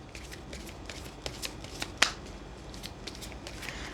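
Tarot cards being shuffled by hand: soft, repeated riffling and papery flicks close by, with one sharper snap in the middle and no speech over it.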